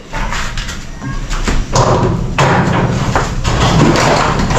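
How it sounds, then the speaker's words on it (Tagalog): A hammer strikes scrap steel during welding work, landing several sharp, irregular metallic blows against a loud, busy workshop background. "Martilyo."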